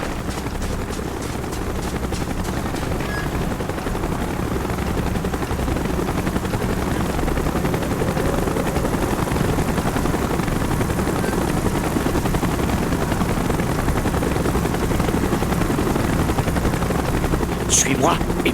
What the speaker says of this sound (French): Hélico d'approche, on se maille!